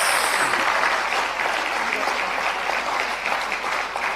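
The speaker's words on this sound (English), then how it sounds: "Let's give a huge applause" Warm, sustained applause at a global conference of meditation leaders greets a guest speaker, a full, steady roar of clapping lasting over four seconds with no talking.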